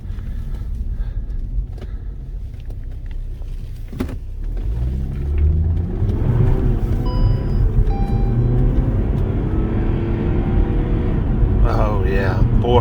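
A 2011 Saab 9-3 2.0t turbo rumbles low from the cabin on a test drive, its engine note rising as it pulls away, steady and smooth, with a driver speaking over it.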